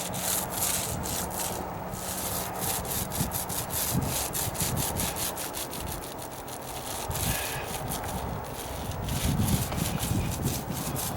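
Paint roller working over wooden deck stairs, a dense continuous rubbing and scraping texture with frequent soft knocks and bumps, close and fairly steady throughout with no talking.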